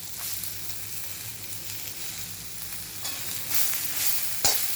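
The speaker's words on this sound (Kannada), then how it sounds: "ಚೆನ್ನಾಗಿ ದೊಣ್ಣೆ ಮೆಣಸಿನ್ಕಾಯಿ ಶುಂಠಿ ಚೆನ್ನಾಗಿ ಬಾಡಿಸಿ" Capsicum and ginger sauté in a pan for a chutney, sizzling steadily and close up. Stirring swells the crackle toward the end, ending in one sharp clatter.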